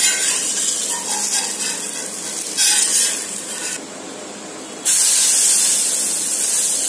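A banana pancake sizzles in a hot pan with a bright, steady frying hiss that swells and drops as it is moved and flipped, close and loud with no talking.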